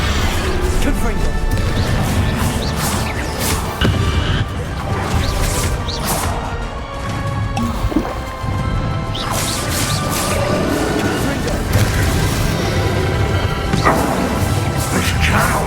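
A Confringo spell blast striking Ranrock in the final battle of the Hogwarts Legacy video game, with crashing impacts and whooshes inside a loud, dense mix of game music and effects, and a voice speaking.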